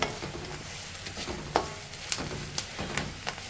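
Kashmiri chili powder fries in oil with garlic and curry leaves, making a faint, continuous sizzle broken by light stirring taps and clicks.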